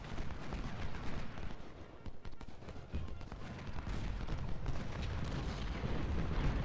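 Massed Civil War battle gunfire at Fredericksburg in the strategy game Ultimate General: Civil War, a continuous rumbling wash of musket and cannon fire with dense crackling shots, steady and fairly distant, without talk.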